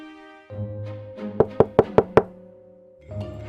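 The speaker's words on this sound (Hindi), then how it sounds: "तभी दरवाजे पर दस्तक होती है।" Five sharp knocks on a door in a quick, even series, close and clear between stretches of steady tonal background sound from a Hindi comedy scene.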